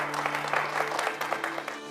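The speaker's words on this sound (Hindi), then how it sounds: "तालियां तालियां।" Applause and clapping from a studio audience on a Hindi comedy TV show set during a wedding blessing scene, a steady dense burst of many hands lasting a couple of seconds with a faint background hum.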